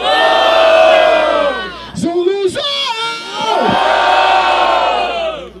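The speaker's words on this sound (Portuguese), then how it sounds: "Gritem pras rimas boas." Loud crowd roaring and shouting at a Brazilian freestyle rap battle in Barueri, a sustained cheer that breaks briefly as a voice calls out a rapper's name, then swells again into a full roar.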